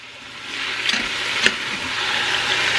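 Beef for Chicago-style Italian beef browns in a pressure cooker with a steady, close, crackling sizzle that swells gently, broken by a couple of sharp clicks.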